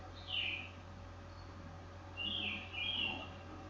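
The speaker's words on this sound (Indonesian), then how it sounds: "padahal ada burung tuh yang bunyi." Morning birdsong outdoors: two or three brief chirping bursts from birds at moderate distance, with quiet gaps between, over a constant low background hum.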